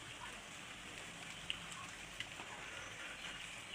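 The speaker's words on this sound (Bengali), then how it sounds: "তো দেখেন কি মানে হালকা একটা বৃষ্টি পড়তেছে" Light rain falls steadily in a rural village kitchen area where banana stem curry is being cooked, a soft continuous patter with a few brief sharper drops, fairly quiet and with no voices.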